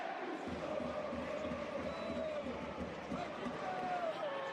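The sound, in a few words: stadium crowd applauding Yildiz as he is substituted off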